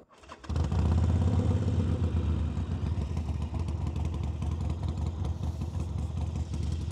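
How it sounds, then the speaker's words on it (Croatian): A Harley-Davidson Forty-Eight motorcycle fires up and settles into a loud, close, rumbling V-twin idle with a steady, lumpy throb. "ali ajde da čujete kako se čuje ovaj motor."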